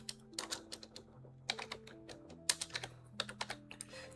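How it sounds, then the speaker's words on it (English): Rapid typing on a computer keyboard during C++ coding work on a RISC-V emulator, with close, irregular bursts of clicky keystrokes and short pauses between them. "I'm getting so tired of typing these."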